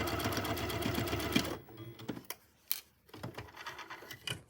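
A sewing machine chain-pieces quilt blocks, running steadily for over a second, then stopping. Softer intermittent taps, fabric handling and brief restarts follow, all quiet and close.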